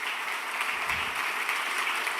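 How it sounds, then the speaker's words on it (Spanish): A church congregation applauds steadily during a sermon, a dense, continuous wash of clapping that holds at an even loudness for the whole stretch with no voices over it. "Si va a aplaudir al Rey, hágalo con fuerza, por favor."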